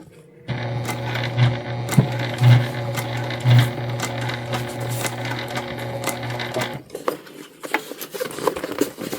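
A sewing machine runs a continuous stitching pass on a bum bag, a steady close mechanical whir and buzz lasting several seconds, then stops, followed by light handling clicks.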